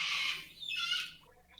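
A loud bird lets out a harsh, drawn-out squawk close by, rising and wavering for over a second before tailing off, with no voices.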